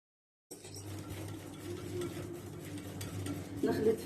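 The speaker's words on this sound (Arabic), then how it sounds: "نضيف الزيت ونخلط جامد برضه مع الزيت." Cookie batter being mixed vigorously with oil in a bowl, a soft continuous scraping and sloshing stir close by, with a louder clatter near the end.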